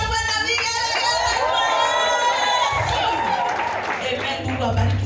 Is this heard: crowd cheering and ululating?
yes